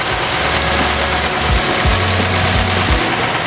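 Mercedes-Benz OM366LA intercooled diesel idling in an Adiputro Neoplan bus: a steady low rumble with a soft rhythmic knock, close and alone, with no voices.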